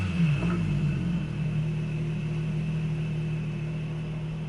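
A Porsche engine in Gran Turismo 7 hums with a steady low rumble and a faint whir, holding an even drone throughout with a brief swell near the start.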